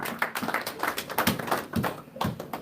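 A church congregation claps in a steady, rhythmic beat during a worship service, with crisp hand claps repeating at a brisk, regular pace.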